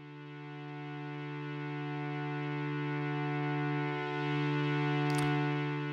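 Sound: ambient pad synth patch in Arturia Pigments with loop fade

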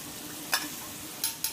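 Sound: stirring water spinach and beef stir-fry in pan

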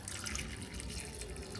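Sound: water poured into a pressure cooker over chickpeas

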